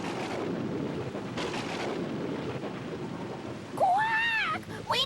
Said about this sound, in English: It started to pour with rain, and there was thunder and lightning everywhere.